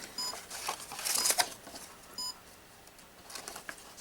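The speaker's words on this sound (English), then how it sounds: "camera's beeping at me telling me it was shutting down" Two brief electronic beeps from a DJI Osmo Pocket 2 camera warning it is shutting down, spaced about two seconds apart, sound faintly over soft rustling and handling noise.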